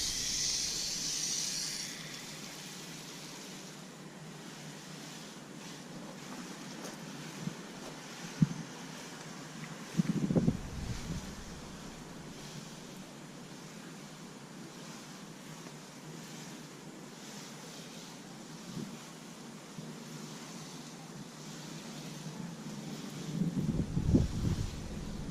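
A garden watering wand on an extendable power pole sprays a soft, steady shower of water over a backyard raised bed, a continuous hiss with a few small knocks and louder splashing near the end.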